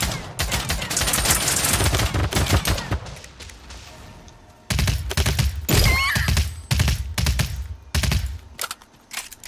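Rapid bursts of video game gunfire in Realm Royale crackle in dense volleys, pause briefly, then return as several sharp clustered bursts alongside chirping game effects.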